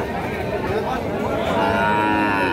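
A young deshi bull calf with a little Sahiwal blood moos at a Bangladeshi cattle market, a drawn-out low call rising clearly over steady crowd murmur in the second half.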